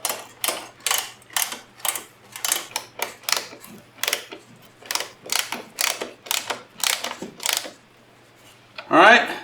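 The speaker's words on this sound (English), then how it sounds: "Once you got them in, go ahead and tighten these up." A ratchet tool tightens bolts on a Molblly bed frame during assembly, giving a quick run of sharp, evenly spaced mechanical clicks in short bursts, close and loud, followed by a brief rattle at the end.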